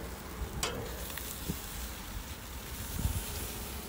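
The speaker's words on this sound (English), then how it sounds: "Look at that sizzling." Pork ribs sizzle in a tray over a gas fire, giving a faint, steady hiss with a few small pops and clinks.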